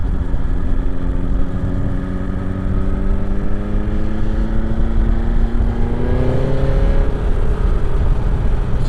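Motorcycle with the exhaust flap removed cruising on a country road, a loud steady engine drone heard from the rider's position under heavy wind noise, pitch climbing slightly as it accelerates near the end.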